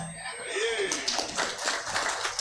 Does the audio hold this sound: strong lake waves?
no